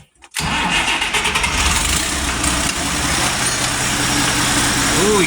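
An International Harvester 1066 tractor engine cranks and catches after a brief silence, then settles into a loud, steady diesel idle with a rough low rumble that continues to the end.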